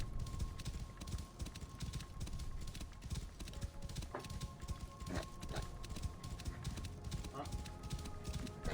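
Steady, rhythmic hoofbeats of a galloping horse in a video game, a quick repeating clip-clop, with voices talking underneath.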